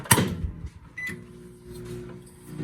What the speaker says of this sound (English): now we're going to be putting it back inside the microwave for another 30 seconds